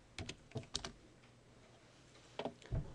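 Keys on a computer keyboard tapped in a few short bursts while entering a box command in CAD software, with clicks clustered near the start and again near the end, quiet gap between, close and moderately soft.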